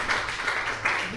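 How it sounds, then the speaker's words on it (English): Audience applause for a presenter at an agricultural pitch competition, a steady wash of many hands clapping throughout a short burst, fairly loud and even with a slight swell near the end. "Please give him a round of applause."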